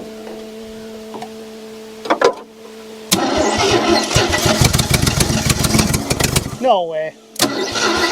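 A 1974 AMC Javelin, pulled free of trees after more than 30 years with a likely clogged carburetor, cranks loudly in a fast, steady rhythm for several seconds without catching, then stops. Someone speaks briefly over the cranking.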